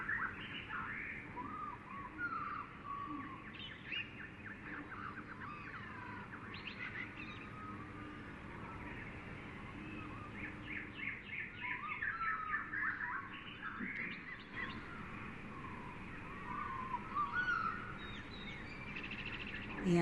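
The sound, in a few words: birds singing in a ravine with banana plants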